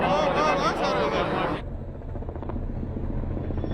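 A helicopter's loud, steady rotor and engine drone dominates at first, then abruptly drops to a lower, more muffled rumble that continues to the end.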